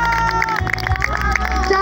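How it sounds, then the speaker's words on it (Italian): An audience at a magic show applauds, with steady clapping and crowd noise filling the clip while a presenter's voice carries over it. "Un applauso grande per Alessandro."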